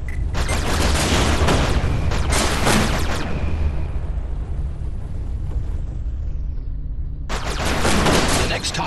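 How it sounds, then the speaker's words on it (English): Spaceship weapons fire at targets in the space shooter Everspace, loud dense bursts of gunfire that fall away for a few seconds and then resume sharply. "Let's begin by shooting targets."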